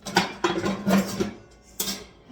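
A couple of tiny bowls clink together while being handled in a kitchen, several close, bright knocks of crockery in quick bursts separated by short pauses.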